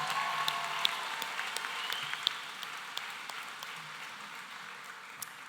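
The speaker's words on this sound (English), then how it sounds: "Let's give him another round of applause." An audience applauds at the 2023 University High graduation ceremony, a dense roomful of clapping that slowly fades, with a few sharper claps standing out.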